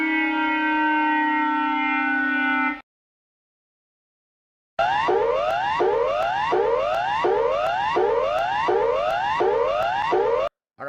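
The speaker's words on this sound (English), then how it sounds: "the Jalert goes crazy" A Japanese J-Alert emergency warning alarm plays loud and alone: a sustained multi-tone chord, a brief gap of silence, then a rapid series of about ten repeating rising, wailing sweeps.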